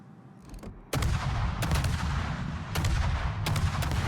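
Salvos from the USS Burrows' naval guns in a warship game, four sharp loud blasts spaced about a second apart over a constant low engine rumble.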